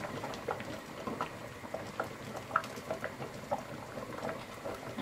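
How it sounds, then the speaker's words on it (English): Jars of strawberry jam sit in a boiling water canner with the lid off, the water bubbling and pattering softly in quick irregular pops at close range. "let it stop bubbling quite so much now that the lid's off"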